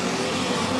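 Chevy Ecotec engine of a USAC sprint car at Indianapolis Motor Speedway running down a cylinder, a steady rough drone at a distance, brief and continuous.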